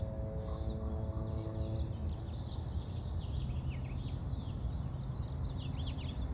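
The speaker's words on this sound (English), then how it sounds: "Right now we're hearing a mix of a few different birds" A mix of wild birds, house sparrows among them, calls and chirps outdoors in San Francisco. The brief, faint chirps keep recurring over a steady bed of background rumble, with no talk.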